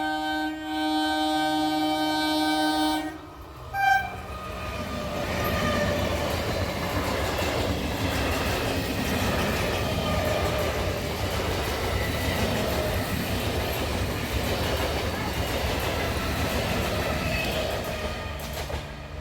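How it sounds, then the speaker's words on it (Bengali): Hasnabad–Sealdah train passing through a village: a loud rumbling run of railcars with rhythmic wheel clatter and a brief horn-like tone near the start, sustained and close for the whole stretch. "এই গ্রামের মাঝখান দিয়ে চলে গেল হাসনাবাদ শিয়ালদহগামী ট্রেন।"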